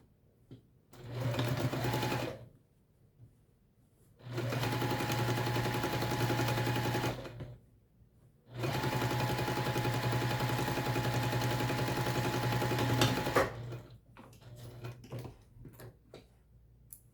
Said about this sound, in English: And sew these together.